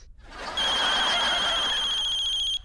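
A telephone rings with a steady electronic trill, starting abruptly after a moment of quiet and continuing unbroken for about two seconds.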